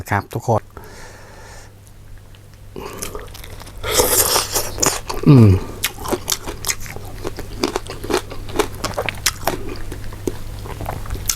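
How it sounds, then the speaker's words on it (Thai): Spicy squid-tentacle papaya salad being eaten close up, with crunchy bites and chewing scattered through the clip, over a low steady hum and occasional speech between mouthfuls. "วันนี้กินวันนี้กินเป็นส้มตำหนวดปลา"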